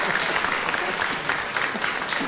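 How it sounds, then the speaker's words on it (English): Studio audience applause on a radio panel show, dense steady clapping from a sizeable crowd, close and even throughout. "A round of applause would not be amiss."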